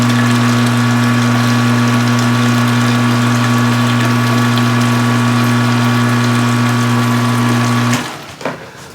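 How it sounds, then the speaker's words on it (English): An electric pump moves hot water for home-brewing a nut brown ale, humming loud, close and steady for about eight seconds before it cuts off, leaving a few faint knocks. "I'm gonna pump a little more hot water in there"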